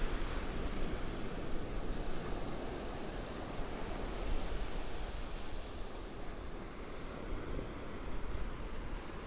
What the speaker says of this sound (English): Out there is ocean.